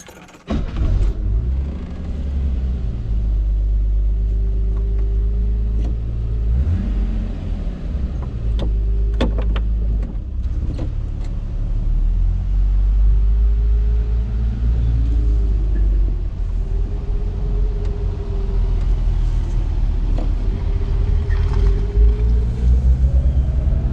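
A 1969 Mercedes-Benz 280 SL on a test drive, its engine a loud, steady low rumble with wind roar, pitch rising and falling as it accelerates and shifts, heard from inside the car.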